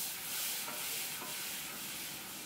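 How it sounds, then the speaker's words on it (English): Butter melts and sizzles in a pan, giving a steady, close hiss with soft stirring scrapes over a couple of seconds. "We're gonna melt that butter, brown that butter."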